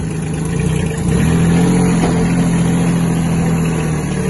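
A Kubota B1502 Japanese mini tractor engine runs steadily nearby, a loud, even diesel drone with a slight lift in pitch about a second in, then holding constant.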